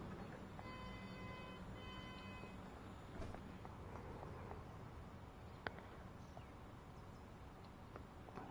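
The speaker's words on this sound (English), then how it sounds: "Let's get a shot of the train leaving." A train pulls away in Train Sim World 5 on PS5, giving a steady rolling rumble with a brief horn-like tone early on and occasional clanks, distant and fairly quiet.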